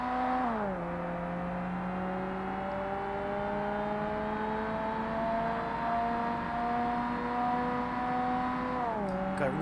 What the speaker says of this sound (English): it really doesn't sound like an Impreza though. It sounds like a vacuum cleaner.